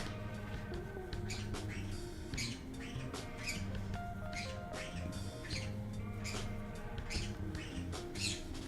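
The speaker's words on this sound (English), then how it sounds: "What are you birds chit-chatting about this morning? Do you hear these birds?" Scarlet macaws chatter in short squawks and chirps, repeated and spread unevenly across the clip, over a constant low background hum, with no talking.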